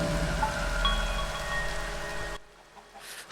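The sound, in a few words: rain falling in Minecraft video game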